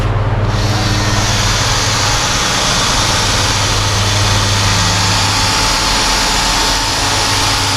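Small cordless mini polisher running on the trim molding of a classic lowrider car, a steady loud whirring drone that holds an even pitch throughout, close by with no speech.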